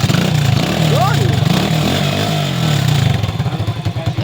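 A motorcycle engine, started by kickstart after a basic wiring fix, runs with a loud, close, chugging idle and a brief rise in revs. Someone talks over the engine.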